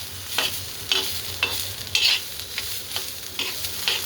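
Popcorn being roasted and stirred in a pan, with a repeated scraping stir roughly every half second over a soft, steady background sizzle, close and fairly loud, no voices.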